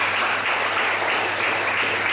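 Steady, dense applause from an audience at a professional development session on communication, continuous and fairly loud across the whole stretch with no pause.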